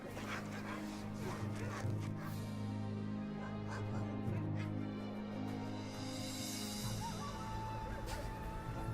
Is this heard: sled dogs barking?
yes